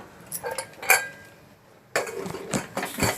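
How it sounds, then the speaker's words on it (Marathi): Metal lid set onto a pressure cooker holding pav bhaji vegetables, heard as a few close clanks and clinks, a short pause, then a rougher run of metallic scraping and rattling. "आता मी झाकण लावते कुकरचं"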